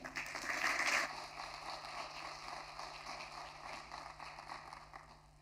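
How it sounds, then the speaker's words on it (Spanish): Applause from an audience at a building waterproofing manual launch event, a moderate round of clapping that peaks early then gradually thins and fades, somewhat distant and faint. "Démosle un fuerte aplauso"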